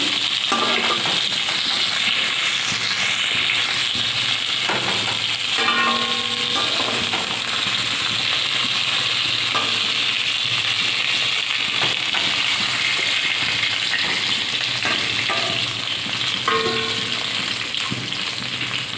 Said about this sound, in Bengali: মাছটা ভালোই ভাজা হয়ে গিয়েছে